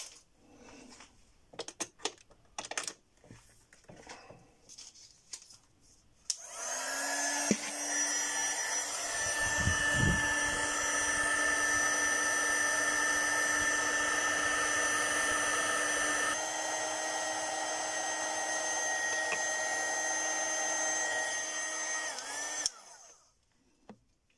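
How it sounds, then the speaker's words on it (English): A heat shrink heater blows hot air to shrink tubing over an XT60 connector, a steady whirring hiss with a faint whine that runs for about sixteen seconds after some brief handling clicks, then cuts off. "Then I connect my heat shrink heater."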